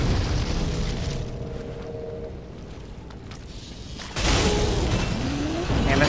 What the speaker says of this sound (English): we're just gonna hit the other one with fire